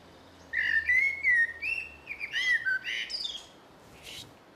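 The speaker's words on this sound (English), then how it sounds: "Blackbird in lockdown," A blackbird sings during lockdown, a rich fluting warble of several slurred whistled phrases with high twittering notes, close and clear over a faint low rumble.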